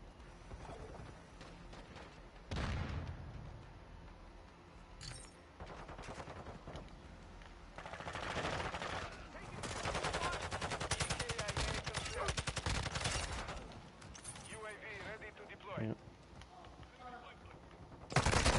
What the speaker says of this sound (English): there's a sentry gun right here